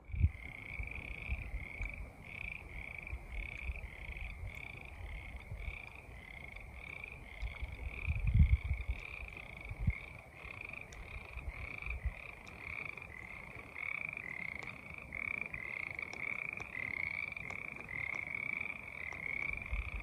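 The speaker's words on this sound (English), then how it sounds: "Frogs singing in the ponds on the way up in." Frogs croaking in ponds along a trail on Boulder Mountain in Dixie National Forest, a steady, continuous chorus of rhythmic calls at moderate distance in a quiet outdoor setting, faint and unbroken throughout.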